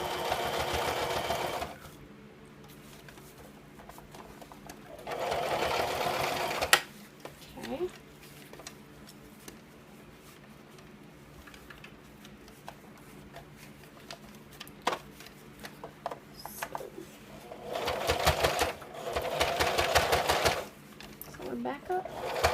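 A home sewing machine stitches a cloth diaper in fast mechanical bursts that start and stop, close and loud, with quiet gaps between runs and a voice talking during the pauses.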